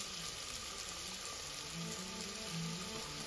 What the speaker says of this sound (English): Now I'm trying to fry the okra.